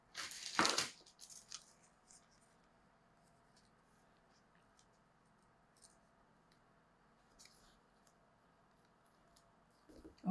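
Scissors cutting out a drafted shirt collar paper pattern, a brief close burst of snipping and rustling at the start, then near quiet with a few faint clicks and handling sounds.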